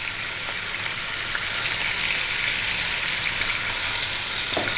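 Mutton curry with salt and black pepper sizzles steadily in a pan, a loud, continuous frying hiss broken by occasional faint scrapes of stirring.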